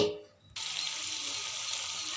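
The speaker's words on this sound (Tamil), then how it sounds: "தண்ணி ஊற்றிட்டேன்" Water poured into a pan of prawn thokku during cooking, a steady hiss of pouring and sizzling that starts abruptly after a brief faint lead-in and continues evenly.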